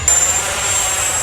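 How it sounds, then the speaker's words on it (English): FMS Rafale 80mm electric ducted-fan RC jet flying aerobatics, a steady high-pitched whine and rushing roar held at constant loudness, with a thin tonal whistle running through it. "damn if this jet doesn't fly amazing, dude"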